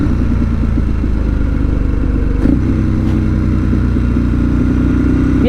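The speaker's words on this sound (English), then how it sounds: "You're on a fucking moped, bruv, go a bit quicker." A moped engine drones loud and near, its pitch shifting midway as it passes, with clattering mechanical noise over steady road rumble.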